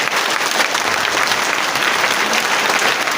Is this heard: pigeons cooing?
no